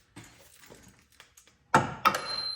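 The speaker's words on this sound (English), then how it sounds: "Give it a couple taps." A few light metallic taps on the lower control arm of a 1991 Ford Probe during a ball joint replacement, faint scattered knocks followed by two sharper, louder strikes with a ringing tail.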